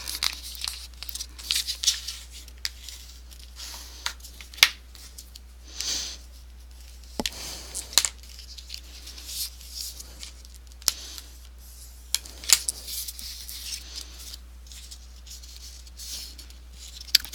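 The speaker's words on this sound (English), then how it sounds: "The paper will crack a little bit because you are burnishing on both sides" Folded paper and Tyvek being burnished by hand, with sharp scattered crackles and rubbing scrapes in an irregular rhythm, close and quiet with no speech.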